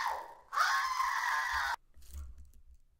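A woman screaming: one loud, sustained, high shriek lasting about a second, which cuts off abruptly and is followed by quieter low scuffling sounds.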